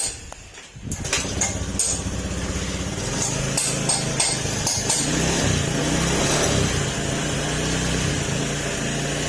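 After a brief quiet start, a freshly rebuilt Honda Beat FI scooter engine runs steadily as it warms up, a close, continuous mid-pitched drone that holds level throughout.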